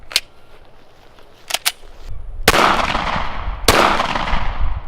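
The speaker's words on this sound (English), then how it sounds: "So first round I'll be shooting is just a 115 grain full metal jacket" Two sharp pistol gunshots firing 115 grain full metal jacket rounds into plexiglass, the first and louder one followed by a long ringing decay, the second coming about a second later, with small clicks and taps before them and no talking.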